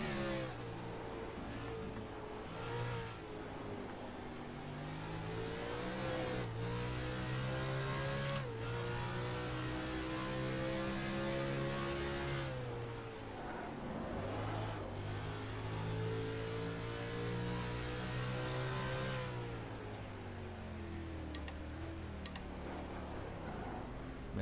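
A car engine revs under throttle in a racing game on a road course, pitch rising and falling steadily through gear changes, with soft clicking from controls underneath.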